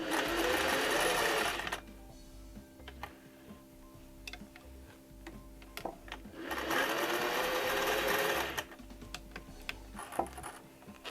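A sewing machine stitches a placemat mini tote in two quick close bursts, separated by a quieter stretch of light ticking and clicking as the fabric is handled.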